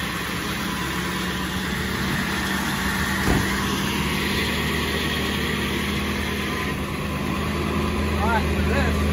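A 7.3L Powerstroke turbo diesel engine on a Jerr Dan rollback truck, idling up with the PTO engaged: steady low rumbling drone throughout, loud and near, with someone speaking over it.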